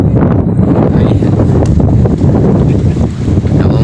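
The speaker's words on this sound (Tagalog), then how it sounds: "namumuti po yung dagat. Malakas po yung alon." Strong sea waves churning white under gusting wind, heard outdoors by the shore as a loud, continuous rushing roar with heavy wind buffeting the microphone.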